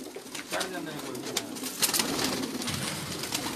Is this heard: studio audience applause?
no